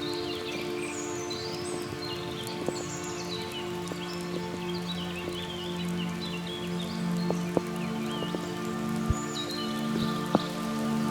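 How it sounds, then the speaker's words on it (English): Rain dripping onto a raincoat during a winter walk in a Swiss forest, a steady soft patter with scattered sharper drops, while birds chirp faintly in the background. "The drip, drip, drip sound of the rain falling on my raincoat"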